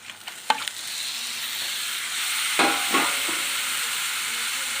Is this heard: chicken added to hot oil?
yes